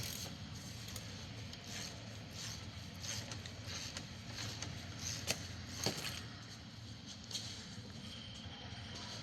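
A hand ratchet works on the engine mount bolts of a Fiat Punto in a workshop, giving faint, intermittent clicking and metallic taps over a steady background hum.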